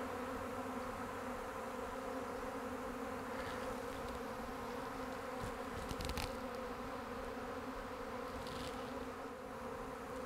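Swarm of honeybees at a hive box, a dense continuous buzzing hum from many bees close by that stays steady throughout, with a few brief louder buzzes from individual bees passing near.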